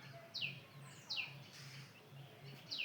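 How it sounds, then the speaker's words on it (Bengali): Cuckoo calling from a tree in the evening: three sharp descending whistled notes spaced evenly, distant and quiet, over a soft low rhythmic hum. "কোকিলের ডাক শোনালাম আপনাদের সরাসরি।"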